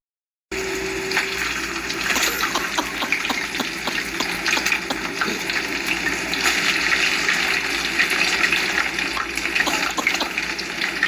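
Water gushes steadily while a cooking pot is drained, a continuous broadband rush that holds at an even level from start to finish with no talk over it.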